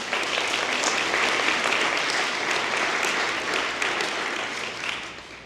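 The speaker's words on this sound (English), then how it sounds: "So please give them a round of applause." A crowd at a college commencement ceremony gives the graduates sustained applause, dense and steady throughout before tapering slightly at the end, with no talking over it.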